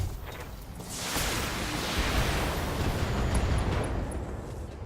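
A mech's ammunition cooks off in the BattleTech video game, a loud, sustained roaring explosion that swells and rumbles for several seconds.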